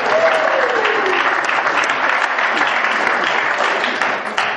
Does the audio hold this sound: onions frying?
no